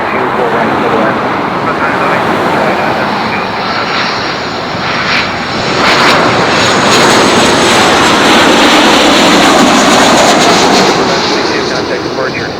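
An airplane roars loudly at Los Angeles International Airport, a sustained broadband jet engine rush that swells and holds strong throughout, close and dominant.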